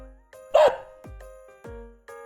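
A dog barks about five times in a short series of separate, clear barks with brief pauses between them, heard alone.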